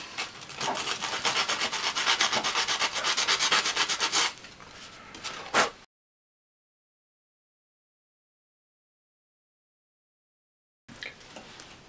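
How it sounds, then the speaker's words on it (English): Steady dry rasping of sandpaper scrubbing the back of a small metal crocodile clip, close and continuous for several seconds, a brief burst, then silence before the rubbing resumes. "I'm just going to sand the back of the crocodile clip."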